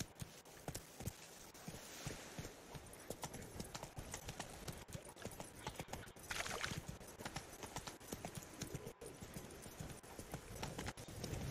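Geralt's horse Roach from The Witcher 3: Blood and Wine gallops with a steady, rapid clip-clop of hooves that is loud and close, with game ambience behind it and no talking.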